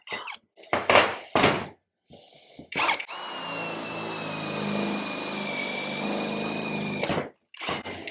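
A power drill whines steadily for about four seconds, a high grinding drone boring into a metal piece, framed by short bursts of clattering and knocking before and after.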